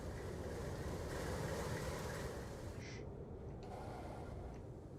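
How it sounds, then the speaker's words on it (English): A train rolling past in the railway sim game Transport Fever 2, a steady broad rumble with a brief higher hiss near the middle, fairly loud and continuous for the whole stretch, no talk over it. "There's a train that's actually passing through here"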